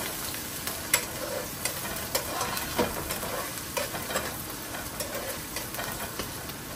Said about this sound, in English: Let this saute a little bit.